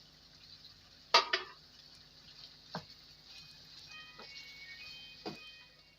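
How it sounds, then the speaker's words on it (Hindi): Chicken frying with spices in a karahi, a faint steady sizzle broken by a sharp clank of a utensil on the pan and a few softer scraping stirs spread across several seconds, with no talking. "चिकन के साथ मसालों को डालकर 1 से 2 मिनट के लिए फ्राई करेंगे"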